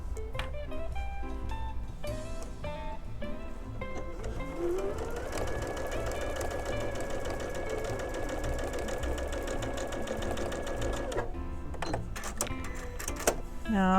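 A sewing machine stitches just inside the marked line of a quilt block, whirring rapidly in short runs, then in one sustained stretch before stopping, with faint talk in the background.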